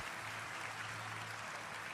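Quiet, even applause from a church congregation, many hands clapping in a soft continuous patter that fills the whole short stretch without any speech.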